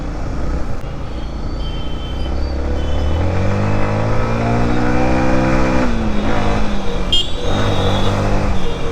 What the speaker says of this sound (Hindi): इनलाइन 4 का जो साउंड है ना भाई साहब, पीछे से सुन के इतना स्वाद आते हैं ना